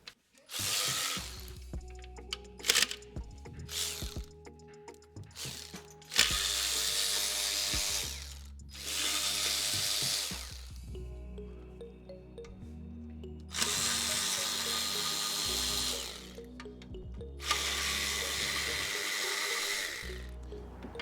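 A power tool works 12 mm heat shield bolts off a 2018 Honda Accord with a 1.5L turbo engine, giving several loud close bursts of whirring with short pauses and ratchet clicks between them.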